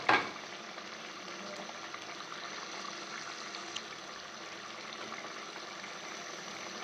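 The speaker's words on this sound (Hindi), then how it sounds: "इसको भुनेंगे अच्छी तरह से। अब पानी खुश्क होने देंगे।" Minced meat (keema) and potatoes cook in a pan with fenugreek as the water dries off. There is a steady, soft, close sizzling and bubbling, with a brief clink at the start.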